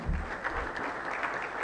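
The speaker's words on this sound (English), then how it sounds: "So another round of applause for Dr. Fashino and for all the speakers as well." A conference audience applauds the speakers at an AI and robotics event, a fairly quiet, steady wash of many hands clapping, somewhat distant in the hall.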